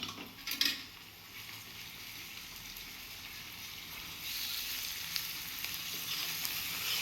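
Fresh ginger garlic paste stirred into a frying brinjal curry gives a steady, soft sizzle with a spoon clinking against the pan at the start, the frying growing slightly louder later on.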